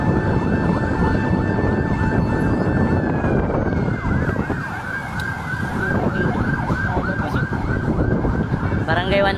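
Several fire truck sirens wail loudly and continuously at a large residential fire in Aroma, Tondo, Manila. The overlapping rising and falling tones are close by and persist without a break over a dense, rumbling street background.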